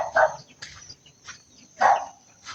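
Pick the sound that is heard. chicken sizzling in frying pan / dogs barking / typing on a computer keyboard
dogs barking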